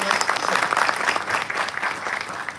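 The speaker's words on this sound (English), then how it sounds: "Big round of applause, sir." Audience applauding at a live foundation event after a national anthem performance, a steady, dense wash of clapping from a crowd that holds level throughout and fades slightly toward the end.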